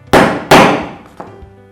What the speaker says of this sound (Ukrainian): необхідно декілька разів вдарити по шляпці осьового гвинта для того, щоб всі елементи секатора сіли на своє місце